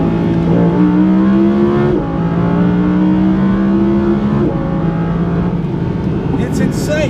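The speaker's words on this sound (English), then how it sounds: "the thing that really gets to me about this R8 is the sound and the grunt and the pickup" An Audi R8 RWS V10 engine revving hard and accelerating, its loud, close wail climbing steadily in pitch through the gears with brief dips at the shifts.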